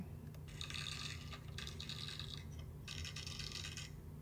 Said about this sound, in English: it's going to start the sound that says Skittles pouring